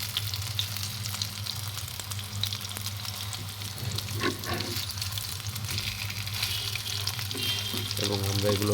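Cabbage pakoras shallow-fry in a little oil with a steady, close, crackling sizzle that carries on without a break and with no talking.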